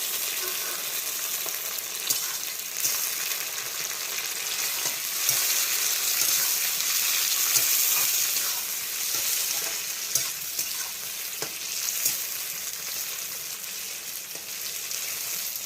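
Tomatoes added to onions in hot oil fry with a steady, loud sizzle that runs the whole time, with occasional stirring scrapes and no talking.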